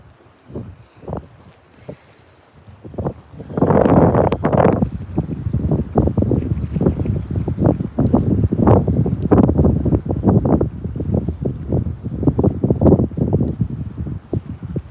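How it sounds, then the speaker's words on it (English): Strong wind on a lake during a bass fishing trip buffets the microphone. It starts with a few light gusts, then becomes loud, rough, continuous roaring and flapping for most of the stretch. "Man, this wind is beating me up today, guys."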